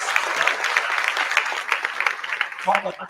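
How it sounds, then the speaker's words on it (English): A few scattered people clap at an event while most of the audience stays still, the sparse claps steady and moderately close, with a brief voice near the end. "a couple of people clapping"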